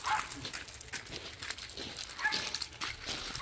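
A puppy at a grandmother's house barks in short yips and bow-wows, close by over a steady hiss of background noise.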